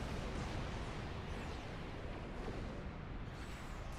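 Torpedo fire and explosions in Star Trek Online, from a Risian weather control vessel with a torpedo build, form a continuous faint rumbling barrage with no clear breaks.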